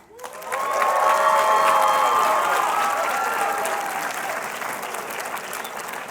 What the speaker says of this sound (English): Can we make some noise for that?